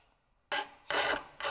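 A metal file works stainless steel in short, harsh rasping strokes, three close, loud bursts of scraping with brief pauses between them.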